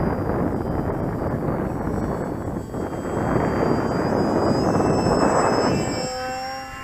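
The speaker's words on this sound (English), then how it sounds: "It's a bit breezy, a bit gusty." Breezy, gusty wind buffets the microphone outdoors during a model annular monoplane flight test, a loud broadband rumble that rises and falls with the gusts and eases near the end.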